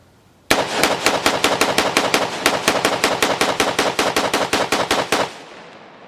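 A Global Ordnance Monolith 5.56 rifle fires a long rapid string of about thirty sharp, loud, evenly spaced shots, then stops abruptly with a short fading tail.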